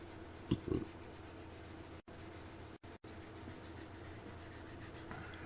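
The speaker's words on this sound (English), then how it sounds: "You're doing block sanding." Block sanding on a model surface: close, continuous rubbing strokes of abrasive paper on a block, quiet and steady with a few brief pauses and a couple of sharper scuffs near the start.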